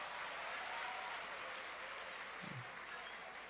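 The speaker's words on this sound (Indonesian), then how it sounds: "Tepuk tangan" An audience at a West Java public gathering on unemployment claps in a faint, steady wash of applause that holds evenly throughout, heard from a distance.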